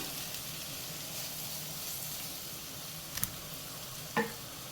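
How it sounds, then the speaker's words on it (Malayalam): Paneer and vegetables sizzle steadily in a pan over a high flame, a soft continuous frying hiss broken by a couple of brief scraping stirs. "ഹൈ ഫ്ലെയിമിൽ തന്നെ നമുക്ക് ഇതൊന്ന് ഇളക്കി കൊടുത്തിട്ട് ഈ പനീറിലുള്ള വെള്ളമയമൊക്കെ ഒന്ന് പോകുന്നവരെ ഒന്ന് കുക്ക് ചെയ്തെടുക്കാം."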